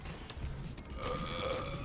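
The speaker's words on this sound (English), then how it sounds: "And burping." A drawn-out, gravelly burp rumbles from a character in the video game Maniac, sitting amid noisy game sound effects and clatter.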